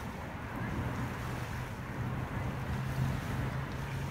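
Sea waves rolling in as a continuous broad wash of surf, with wind noise buffeting the microphone and no voices over it.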